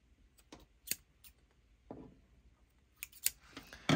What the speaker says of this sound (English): I can probably just cut it because why not? It's paper. It's a paper wallet.